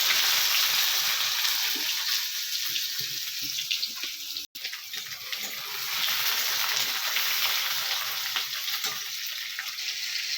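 Steady, close oil sizzle of onions frying in a kadai with cumin and bay leaf, crackling hiss, briefly cut by a dropout midway, then continuing with scraping stirs.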